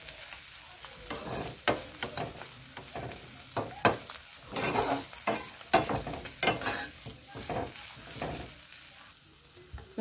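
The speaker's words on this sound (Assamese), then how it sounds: "কলা জিৰাখিনি দি মই আৰু অলপ সময় ভাজি লম" Black cumin seeds fry in a pan with a continuous crackling sizzle, broken by repeated scraping stirs of a spoon against the metal, close and clear.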